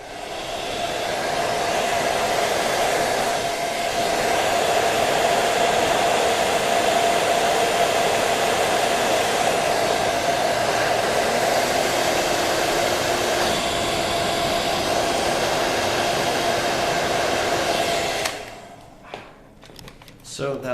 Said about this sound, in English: So I'm gonna try to blow a hair dryer on it.